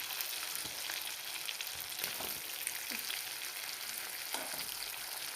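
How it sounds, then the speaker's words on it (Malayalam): Sardines sizzle and fry steadily in a pan, a constant dense crackle, with a few soft scrapes and taps as a small spatula flips them. "ഈ ചെറിയൊരു കണ്ണാപ്പ യൂസ് ആക്കി നമുക്ക് ഈ മീനൊന്ന് തിരിച്ചിട്ട് കൊടുക്കാം."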